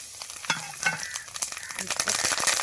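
Mustard seeds and tomato go into hot oil for a crab curry, and sharp crackles and spatters pop over a busy sizzle as the pan is stirred.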